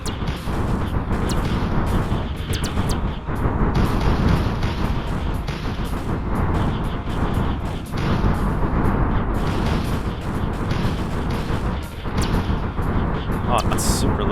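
Units firing weapons in the real-time strategy game Rusted Warfare, a dense, continuous barrage of booming artillery-like blasts and gunfire lasting throughout, with someone talking over the battle.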